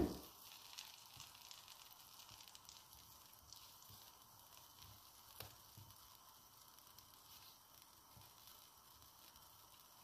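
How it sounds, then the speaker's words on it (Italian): Butter melting in a hot frying pan, a soft, steady sizzle with faint crackles and one brief clink, quiet and close with no talking. "In una padella calda mettiamo il burro."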